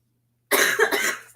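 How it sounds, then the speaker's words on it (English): A person coughs sharply up close after a moment of silence, a quick cluster of two or three harsh, rough bursts fading out, with no talking. "I look at you and you cough more"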